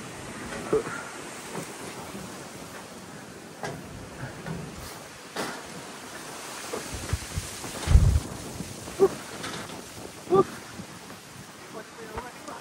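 Strong gusts buffet the microphone on a mountain climb up Gunung Datuk, a rough low roar with sudden thumping bursts, while a few faint voices break through now and then.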